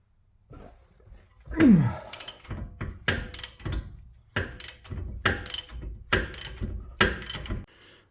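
A ratchet removes caliper bolts on a Jaguar XKR 4.2 (X150) during a rear wheel bearing job, heard as close, loud bursts of rapid clicking in a repeating rhythm with brief pauses between strokes.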